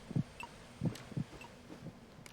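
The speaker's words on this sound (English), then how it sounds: "All I know is Ames's heartbeat sounds a lot like We Will Rock You." A heartbeat in the video game Metal Gear Solid 2 thumps softly in paired low beats, repeating steadily and heard alone at low volume.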